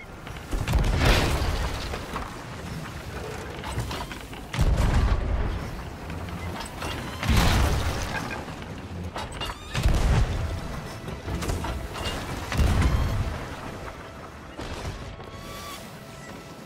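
Heavy ship cannon booms in Sea of Thieves go off every few seconds, deep and loud, with rumbling and clatter between the shots.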